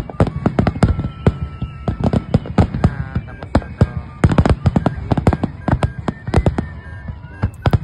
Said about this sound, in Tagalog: talaga namang sumasabog talaga ang paputok nila dyan ng mga fireworks nila mga kamundo